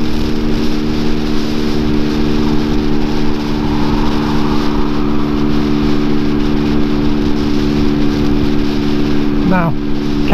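Peugeot PM-01 motorbike engine droning steadily while riding uphill, a loud, even hum with wind rush throughout and a short rising whine near the end.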